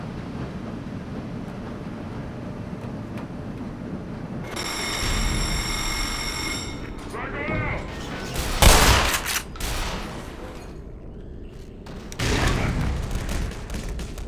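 Frag grenade exploding in the video game Black Mesa, a booming blast amid rumbling game ambience, with a sustained tonal hum and scattered crashes, mid-loud with no speech.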